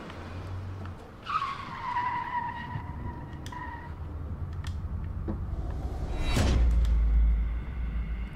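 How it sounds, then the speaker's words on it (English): In the video game Fears to Fathom: Home Alone, a car's tires squeal and skid with a falling whine, engine rumble underneath, then a louder roaring pass swells near the end. "Why am I hearing the car?"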